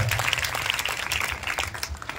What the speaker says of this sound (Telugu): చప్పట్లు కూడా దేవునికి స్తోత్రాలు తెలియపడతాం.